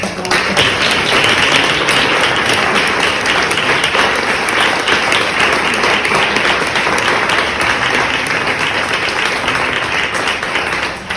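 Sustained audience applause after a talk on the future of food amid climate change, steady dense clapping at full volume from start to finish with no pauses.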